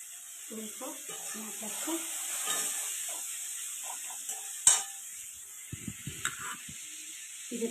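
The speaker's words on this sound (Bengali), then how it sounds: "মাছগুলোকে তো প্রথমে লাল লাল করে ভেজে নেবো" Katla fish frying in hot oil in a home kitchen, a steady sizzle and hiss with light stirring and pan clatter, one sharp clank, and a voice talking softly over it.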